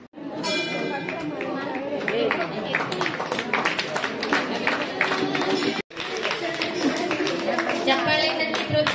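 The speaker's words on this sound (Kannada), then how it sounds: "ಚಪ್ಪಾಳೆ ತಟ್ಟಿ ಪ್ರೋತ್ಸಾಹಿಸಿ" Audience at a Havyaka community talent show claps in encouragement, continuous crowd clapping mixed with chatter and movement, with a brief cut partway through before the clapping resumes.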